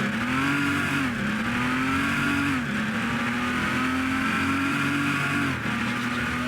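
A video game car engine in Midnight Club 3 drones at high revs, steady and loud, its pitch dipping slightly at gear shifts, with no talking.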